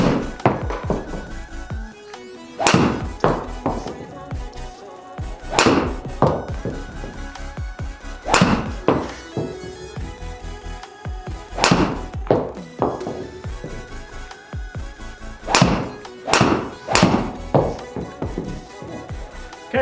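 A cheap £25 Ram driver from Amazon with a standard steel shaft strikes golf balls: a series of sharp, hollow thwacks spaced a second or two apart, close and loud, with faint background rustle between.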